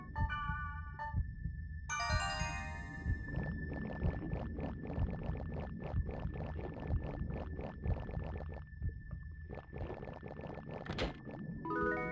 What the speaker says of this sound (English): sounds of heartbeats.